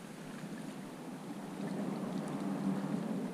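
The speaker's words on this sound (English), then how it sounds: "Playing around with the trolling motor." An electric trolling motor drives a fishing boat on open water during winter speckled trout fishing, giving a steady low hum over broadband wind and water wash that swells louder partway through.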